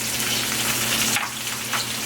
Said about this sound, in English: I'm going to add a half a cup of water.